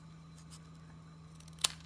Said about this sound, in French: Je viens donc couper maintenant cette pointe qui dépasse là avec les ciseaux.